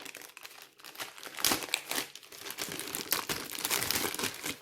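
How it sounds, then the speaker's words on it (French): Plastic packaging around a Lidl rotary paper trimmer being opened by hand, with close, continuous crinkling and crackling that swells into louder rustling bursts and carries on steadily. "Et je vais ouvrir le plastique."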